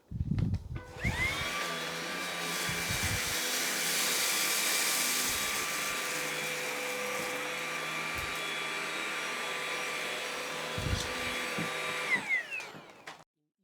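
A Levoit LVAC200 cordless vacuum cleaner runs on carpet in eco mode, a steady close whine with a bright tonal hum, rattling briefly at start-up and switch-off.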